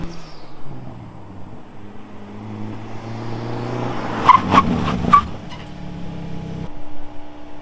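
A Hyundai Elantra N brakes hard during a handling test, with tires squealing and scrubbing over a steady engine drone, a few sharp bursts near the middle before the car settles.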